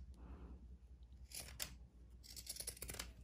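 Scissors snip through the corner of a fabric rag doll horse, giving a few close, crisp cutting crunches in short bursts with no talking.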